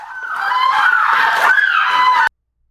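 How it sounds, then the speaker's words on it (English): Women scream loudly and continuously in a home right after a police shooting. The cries are shrill and wavering, close to the listener and alone, then cut off sharply. "I think these are the two females crawling around screaming."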